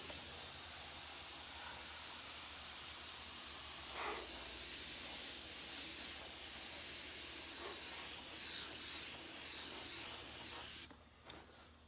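An airbrush sprays paint with a continuous close hiss that holds steady with slight swells, then cuts off abruptly near the end.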